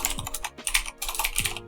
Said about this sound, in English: what's wrong with my typing today?